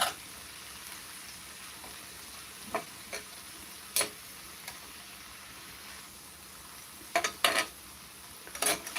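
Cooked vegetables being stirred in a pan, quiet background hiss broken by a few scattered spoon clinks and scrapes, clustering near the end.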